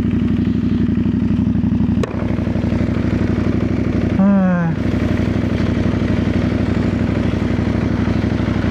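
A CFMOTO 800NK motorcycle engine runs steadily up close, then gives one short, sharp rev partway through and settles back to its steady running note.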